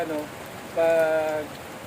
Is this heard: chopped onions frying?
no